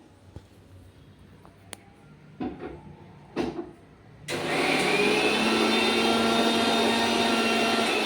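A few faint knocks and clatters come first, then a mixer grinder churning chutney starts abruptly and runs as a loud, steady, high whirring drone until the end.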